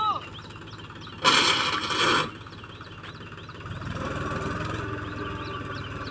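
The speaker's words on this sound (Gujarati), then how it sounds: "ટ્રેક્ટર આપણું નીકળો અહીં." A farm tractor with a rotavator attached runs as it drives out, its low, steady engine chugging close by. A brief louder burst of noise cuts in partway through, and the engine drone grows somewhat stronger toward the end.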